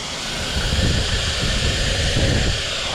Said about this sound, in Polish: Ale z tyłu jakiś szum słyszę, świst.